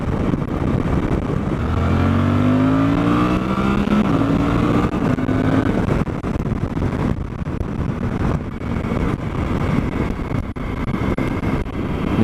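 A 2024 Suzuki V-Strom 800 motorcycle accelerating in high gear, the engine rising in pitch under heavy, constant wind rush from riding.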